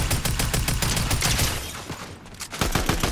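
Rapid automatic gunfire rattles in the video game Fortnite, dense bursts of shots overlapping for a couple of seconds, then a brief lull before a few more scattered shots ring out.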